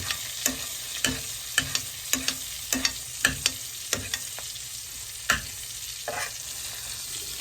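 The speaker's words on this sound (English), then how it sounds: "whatever heats that's remaining in the pan is gonna cook the burger" A burger cooking in a hot buttered pan, with a steady sizzle broken by a series of sharp scrapes and clatters from a spatula or utensil at irregular intervals, close and fairly loud.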